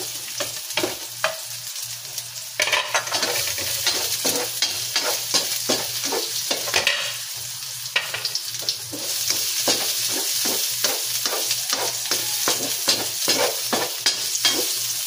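Garlic and onion sauté in a pan for tinola, with a steady sizzle under repeated rhythmic scraping and stirring strokes of a utensil against the pan. The sound is close and continuous.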